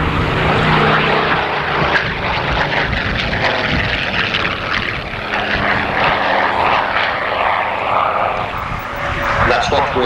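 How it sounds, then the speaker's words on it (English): A P-51D Mustang with a Merlin engine flies past at an RAF Honington airshow in 1992, its propeller engine roaring loud and steady throughout, with commentary heard underneath. "Merlin engine P-51D Mustang."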